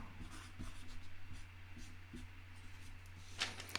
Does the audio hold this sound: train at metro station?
no